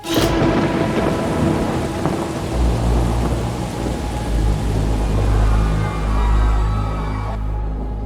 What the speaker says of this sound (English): We make plans to go somewhere, but it starts raining as soon as we go there.